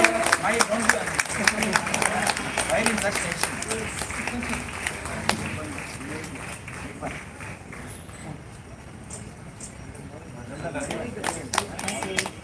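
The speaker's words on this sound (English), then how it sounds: "A big round of applause is expected for him." At a school council investiture ceremony, an assembled crowd claps for a medal and scholarship winner. The applause is dense and irregular, moderately loud, and dips slightly midway before picking up again, with voices in the background.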